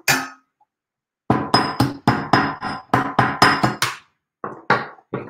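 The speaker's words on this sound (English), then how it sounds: "I'm gonna hammer out just this little bit" Small hammer striking a silver jewelry link, a quick run of about a dozen sharp, bright metallic taps close by, then a brief pause and a few more blows, with no talking.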